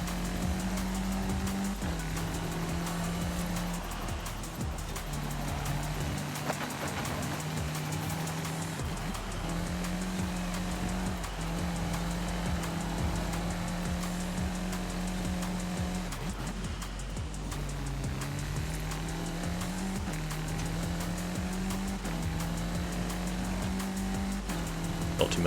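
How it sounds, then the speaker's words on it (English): Car dirt racing in the video game Forza Horizon 5, a sustained engine drone that rises and falls with revs and gear shifts, gravel and tire scrabble through drifts, loud and continuous without talk. "just a little bit of dirt racing ASMR"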